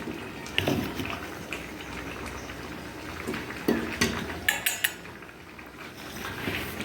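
Potatoes going into a cooking pot of meat, a dish cooked without oil: scattered clinks and clatters of utensil against pot, several sharp knocks near the end, over a low simmering background.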